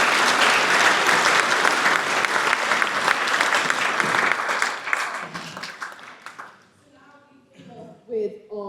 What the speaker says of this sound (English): Can we all give you a round of applause?